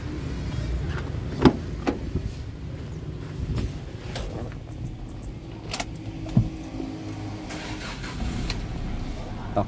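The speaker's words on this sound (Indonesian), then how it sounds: "Kita langsung coba untuk mendengarkan suara mesinnya." A Mitsubishi Triton single-cab 4x4 engine starts and idles steadily, with a few sharp clicks and thumps nearby and a low mechanical hum throughout.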